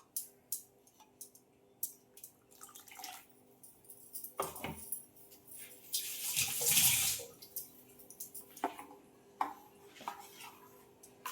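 Water splashes for about a second as a mixer jar holding leftover spice paste is rinsed into a cooking pan, surrounded by scattered clinks of pots and utensils in a quiet home kitchen.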